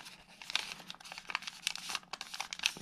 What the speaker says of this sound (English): you're going to valley fold along the middle line